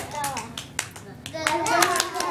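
Children clap their hands in a classroom, a string of sharp irregular claps mixed with kids' voices talking over them.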